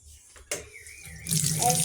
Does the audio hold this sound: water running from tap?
yes